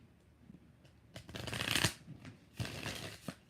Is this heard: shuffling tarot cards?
yes